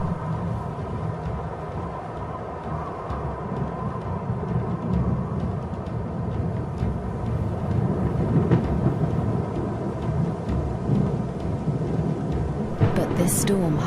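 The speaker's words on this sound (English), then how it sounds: "A storm approaches." A thunderstorm approaches over dry grassland as a low rolling rumble builds slowly across the open plain, with a brighter crack near the end and a narrator's voice over it.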